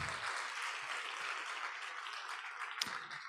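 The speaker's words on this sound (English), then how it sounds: "I think you heard the applause" Audience applause after a film screening in a cinema, a steady broadband wash of clapping throughout, moderately distant and sustained, with a couple of brief low thumps and no speech.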